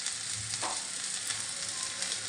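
Tomato and spice masala with turmeric, chilli and garam masala fries in a pan for an egg bhurji, giving a steady, soft sizzle. A brief stir scrapes the pan near the start.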